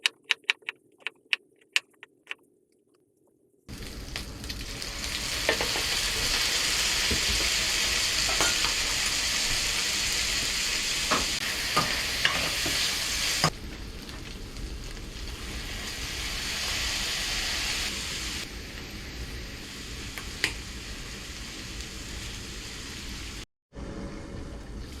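Pork sizzles and fries steadily in hot oil in a home kitchen, a dense continuous crackle with occasional stirring clicks, starting after a quiet moment and briefly cutting out near the end.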